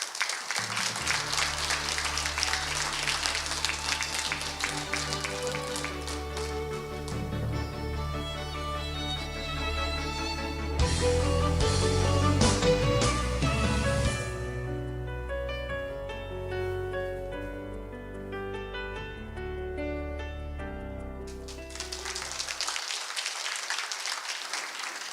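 An audience claps to welcome a keynote speaker at the opening ceremony of a 2023 academic festival. Bursts of applause open and close the stretch, and loud stage music plays underneath.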